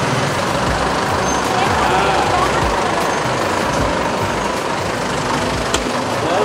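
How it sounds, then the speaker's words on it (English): Dense street traffic in Bangkok, Thailand, a steady loud roar of trucks, buses and cars with engine rumble and a brief sharp hiss near the end, continuous throughout. "No matter where you're at, there will always forever be traffic."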